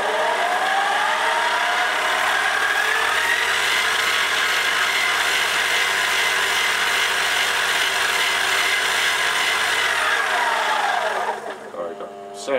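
A Warco Chinese mini lathe with an upgraded, converted motor runs at speed, giving a steady whine with shifting tones that winds down near the end, alone with no talk.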